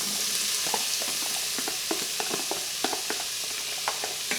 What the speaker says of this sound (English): So we're going to saute that for 3 to 4 minutes until the onions become translucent and soft